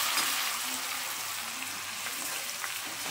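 Garlic paste fries in oil for a dal tadka, giving a continuous, even hiss at moderate volume with faint scattered crackles and no voices.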